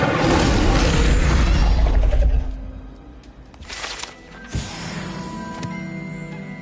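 Incendio and Levioso spells cast in Hogwarts Legacy: a dense, loud magical burst fills the first two seconds, then quieter whooshing flares and a sharp impact follow over a low ambient game backdrop.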